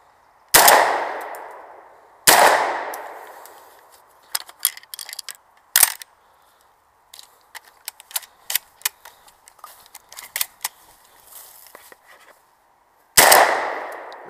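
Loud gunshots crack out at a 3-gun shooting match, a few big isolated reports mixed with sharper clanks and pings of steel targets and brass, set against quiet gaps.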